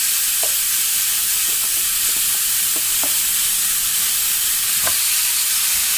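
A steak searing on a grill gives a steady, loud sizzle that fills the whole stretch, with a few faint ticks and pops rising out of the constant hiss.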